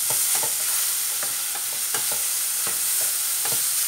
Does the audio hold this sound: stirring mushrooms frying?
yes